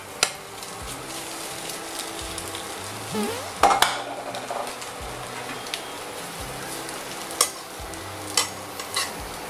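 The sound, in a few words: omelette frying in a hot pan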